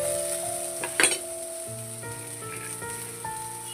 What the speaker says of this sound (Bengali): পেঁপে আর লাল আলুটাকে আমি বেশ খানিকক্ষণ নাড়াচাড়া করে ভেজে নেব।